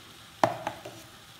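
A spoon scraping through cooked broken wheat mixed into melted chocolate in a pan gives one sharp scrape and two fainter follow-up strokes, close and quiet.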